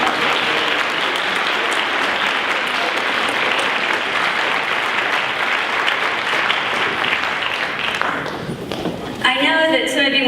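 Dense, sustained applause from the audience at a school capstone graduation ceremony carries on for about nine seconds before dying down, then a voice begins speaking.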